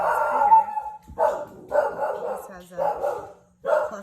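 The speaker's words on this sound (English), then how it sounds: "Sorry about the dogs." Several dogs bark in quick bursts, loud and close, their yips and woofs coming in uneven clusters separated by short pauses.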